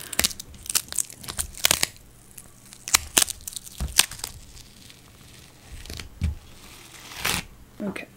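Peeling a stuck-down paper planner insert, a series of sharp tearing, crinkling and rustling bursts at close range, irregular and intermittent.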